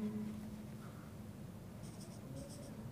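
Writing during a classroom science lesson gives a faint, continuous scratching that sits low under steady background hiss, with a few soft high ticks near the end.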